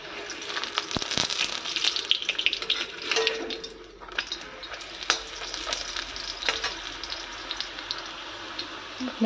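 A puri frying in hot oil, a steady bubbling sizzle with irregular knocks and scrapes of a utensil against the pan, close and fairly loud, no talking.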